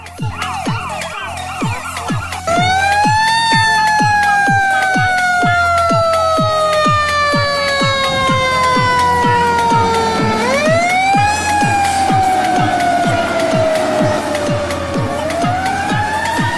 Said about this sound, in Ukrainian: птиця, пожежна машина.